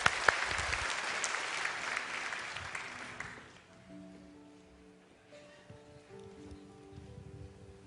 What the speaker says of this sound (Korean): 우리 한번 박수로 맞아서 그분의 이야기를 잠깐 들어보도록 하겠습니다